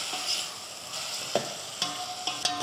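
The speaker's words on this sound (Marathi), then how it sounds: "कांदा आणि बटाटा ह्याच्यातच शिजला पाहिजे पहिला" Chopped onion and potato cooking together in a pan, a continuous close sizzle broken by several light clicks and scrapes of a spoon stirring.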